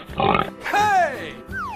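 A pig oinks in a few short grunting bursts, close and fairly loud, mixed with cartoonish vocal sounds.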